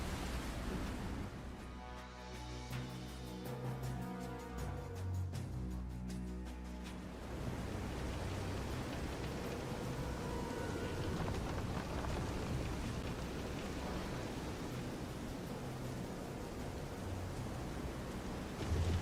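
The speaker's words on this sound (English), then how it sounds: "This is some storm." Steady roar of heavy rain and stormy sea at sea in the Visions of Mana video game, a broad continuous wash with low rumbling swells and faint thunder, a musical drone underneath early on before the storm noise fills in.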